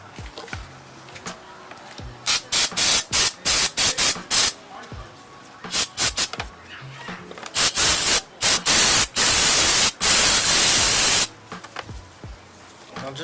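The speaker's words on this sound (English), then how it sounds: "soak it in with this spray and give it a nice clean" Repeated short bursts of carburetor cleaner spray on a Mazdaspeed 3 EGR valve, then several longer sustained hisses, each close and loud with brief pauses between.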